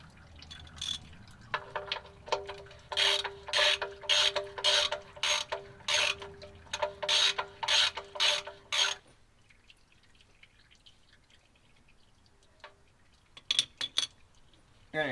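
A ratchet tightens the oil drain plug on a fresh Cat 3406B oil pan in a Peterbilt 359, giving a close run of quick, rhythmic clicking bursts for several seconds. Quiet shop ambience and a few faint clinks follow.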